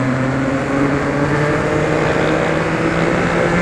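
A Yamaha XSR900 motorcycle engine downshifting, a steady drone humming loudly and continuously, with a low rumble holding close and even throughout.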